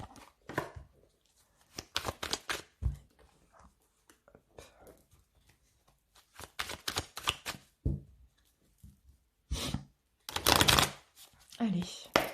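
A deck of oracle cards being cut and shuffled, with crisp bursts of riffling and card slaps in irregular clusters, close and fairly loud, separated by quiet gaps and soft handling noises.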